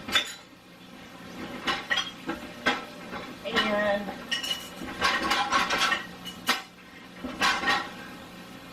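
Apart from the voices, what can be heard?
dishes clinking while emptying the dishwasher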